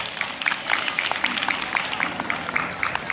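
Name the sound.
audience applause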